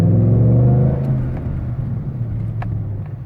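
A pickup truck drives slowly in four-wheel low, its engine giving a steady low rumble and whir that eases off after the first second, heard close with no talk.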